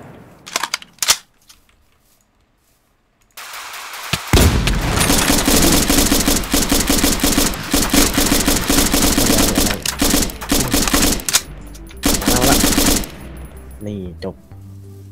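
Gunfire in the military shooter Arma 3: a few isolated shots, a brief lull, then long, loud bursts of close automatic fire rattling almost continuously, trailing off into scattered shots.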